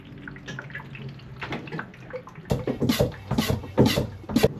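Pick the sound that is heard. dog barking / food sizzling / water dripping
water dripping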